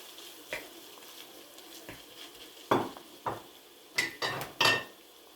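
Minced meat is added to onions in a pan for potato and meat mafraka. A soft sizzle runs underneath while a utensil scrapes and knocks against the pan, and the knocks get louder near the end.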